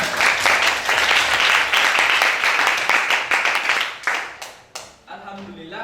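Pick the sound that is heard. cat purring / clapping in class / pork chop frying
clapping in class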